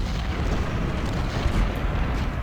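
Cannon fire from 24-pounder and 12-pounder artillery batteries in a Civil War battle at Cedar Mountain, heard as a dense, continuous low rumble of overlapping booms with no clear gaps between shots.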